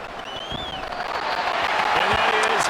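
A football stadium crowd roars during a Bears vs. Dolphins game, a broad swelling wash of voices that builds in loudness, with a commentator talking over it.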